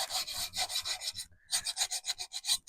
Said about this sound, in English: So I'm just going to sand all the edges.